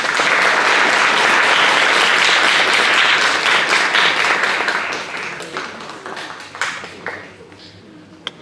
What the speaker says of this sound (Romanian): Să le primim cu aplauze!